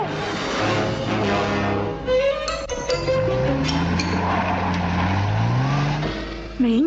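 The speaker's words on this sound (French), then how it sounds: "Oh, je voulais dire, Parker, je vais conduire la voiture jusqu'à Londres" A car engine drones in the French-dubbed animated series Les Sentinelles de l'air as a car heads to London, holding a steady hum with a rising revving pitch and some tire noise, mixed under music.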